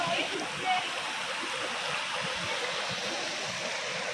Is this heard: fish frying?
no